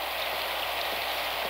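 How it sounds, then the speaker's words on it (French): Dense, steady downpour hissing continuously, heavy rain pattering on a surface with no pauses or voices. "Ma pauvre petite Claire, perdue sous cette pluie diluvienne, elle doit être trempée de la tête aux pieds"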